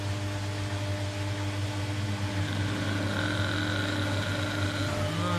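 A glitchy washing machine running steadily again, a continuous mechanical hum with a droning motor tone and faint higher whine, close and even throughout.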